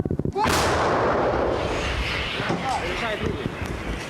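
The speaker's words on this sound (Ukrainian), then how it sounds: "Гармата!" A single loud, booming blast from an artillery gun firing close by in combat, followed by a long rumbling decay with voices faintly audible underneath.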